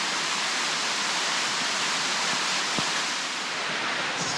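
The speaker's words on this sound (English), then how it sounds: "It's kind of starting to rain more and more." Steady rain in a coastal New South Wales rainforest, a dense even hiss of water dripping and pattering through the canopy, constant and close with no voices.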